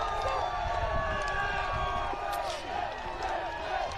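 Italian supporters cheer from the stands at a 2024 World Junior Ultimate bronze medal match against Canada, a steady distant crowd roar with scattered whoops and clapping beneath ongoing commentary.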